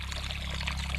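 Irrigation water pours steadily onto okra plants in a farm field, a close, even gush with no break.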